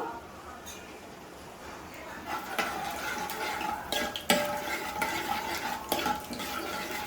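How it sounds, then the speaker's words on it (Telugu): Cumin and tempering spices stirred in a pan for rasam, with soft scraping and clinks of a spoon against metal over a faint sizzle, growing busier partway through. "ఒకసారి కలుపుకోవాలండి"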